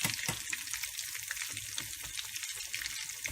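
Potato cutlets (aloo tikki) shallow-frying in oil in a pan, a steady close crackling sizzle with bursts of spitting, continuous and alone with no voices.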